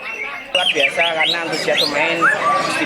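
A Murai Borneo (white-rumped shama) sings at a songbird contest, bright rapid whistles and sweeping chirps sounding close, while someone talks over them.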